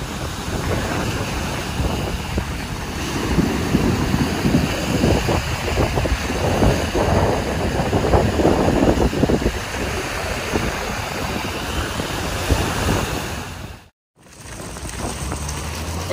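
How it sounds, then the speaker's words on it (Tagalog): Strong wind gusting across a black sand beach, a loud steady roar buffeting the microphone with surf beneath it, cutting out briefly near the end before the rushing resumes. "Ganyan po kalakas yung ano, hangin ngayon dito."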